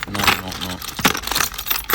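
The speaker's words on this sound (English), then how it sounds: "We're basically choosing between these little union keys." A bunch of old car keys for a Rover P6 jangles and clinks in hand, close and loud, with a short metallic rattle early on and scattered clinks after.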